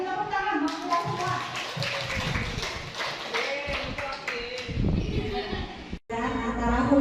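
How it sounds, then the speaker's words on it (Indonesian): Participants at an Indonesian teachers' positive-culture workshop clap together, a busy, uneven patter of hands mixed with voices and background chatter, fairly loud, before cutting off briefly near the end. "Beri tepuk tangan buat kita semua"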